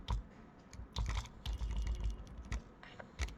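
Fingers type a year on a computer keyboard in a C programming lesson, a quick run of close, crisp key taps with small pauses between clusters, fairly faint.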